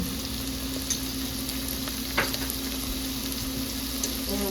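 Chopped vegetables and jarred garlic fry in sausage oil for an egg roll in a bowl, giving a steady, close sizzle with a few soft stirring scrapes and no talking.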